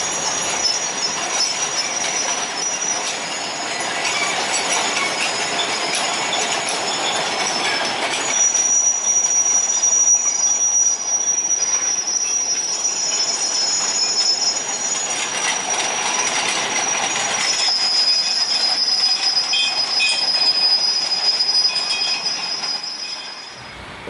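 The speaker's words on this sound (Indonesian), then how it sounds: "lokomotif melewati Tugu Desa Kedaung Kulon dan melewati jembatan" Sugar cane lorry train from the PG Kedawung mill passes close at night near a village monument and bridge, a loud sustained roar of rolling wagons with high shrill wheel squeals and rhythmic rail clatter throughout.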